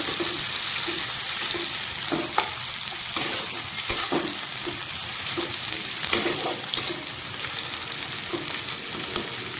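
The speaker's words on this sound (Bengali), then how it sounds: "তো এখানে আমার পেঁয়াজটাকে আমি হালকা ভেজে নেব" Sliced onions fry lightly in a pan with a constant close sizzle, broken by repeated scraping and tapping strokes of a spatula as they are stirred.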